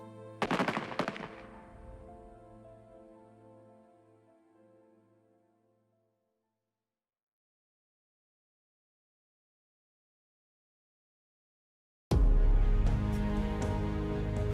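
A firing squad sound effect opens with a short, loud volley of overlapping shots. A long ringing tail fades into silence, and a dense burst of sound cuts in near the end.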